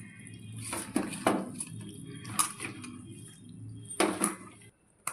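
Raw meat is worked together with green chillies and yogurt in a bowl, making wet squelching and slapping noises in short, uneven bursts against a faint background hum.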